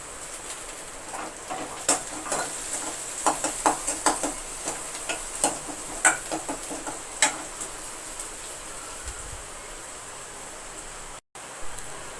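Onions fry with chili powder and curry leaves in a pan, giving a steady, soft sizzle broken by scattered sharp pops and crackles. The pops are denser early on and thin out later.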